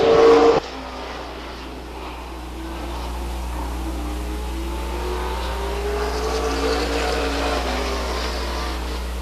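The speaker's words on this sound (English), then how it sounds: "They drag race down the back chute." Race cars at a short-track speedway drag race side by side down the back straight, a sustained engine roar that swells slightly toward the end after a brief louder burst at the start.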